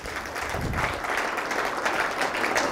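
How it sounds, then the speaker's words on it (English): A church congregation applauds with steady, dense clapping that fills the room evenly for a few seconds, with no gaps. "Let's give him another round of applause."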